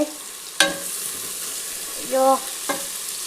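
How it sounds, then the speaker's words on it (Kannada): Curry leaves and green chillies fry in a hot pan for uppittu, giving a steady close sizzle with a sharp crackle at the start and a few stirring scrapes later, no voices. "ನೆಕ್ಸ್ಟ್ ಇವಾಗ ನಾನು ಕರ್ಬೇವು ಸೊಪ್ಪು ಮತ್ತು ಹಸಿರು ಮೆಣಸಿನ್ಕಾಯಿ ಹಾಕ್ಕೊಂಡಿದ್ದೀನಿ. ಅದನ್ನು ನೀಟಾಗಿ ಫ್ರೈ ಮಾಡ್ಕೋಬೇಕು."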